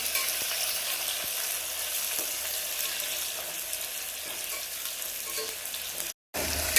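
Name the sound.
onion frying with curry leaves in a pan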